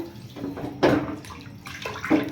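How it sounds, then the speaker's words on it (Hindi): Water splashes and pours in a few short bursts into a container, close and brief. "अब इसमें जाएगा थोड़ा सा पानी।"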